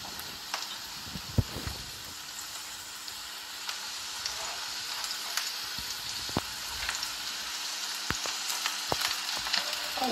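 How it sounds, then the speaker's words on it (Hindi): Chopped onions sauté in a pan with a soft, steady sizzle. Occasional clicks and scrapes come from stirring, close and fairly quiet, with no voices. "उनको ट्रांसपेरेंट होने तक सौते करेंगे"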